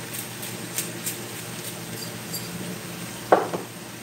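Pork chops brown in a hot pan with a soft, steady sizzle at low level, broken near the end by a brief pair of utensil clicks against the cookware.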